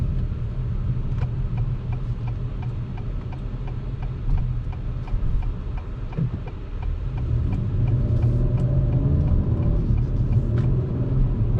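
Heard from close by, a 2021 Acura TLX Type S gives off a steady low engine and exhaust rumble while driving, swelling slightly toward the end, with faint ticking in the background.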